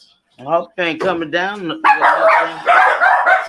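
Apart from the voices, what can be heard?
dogs barking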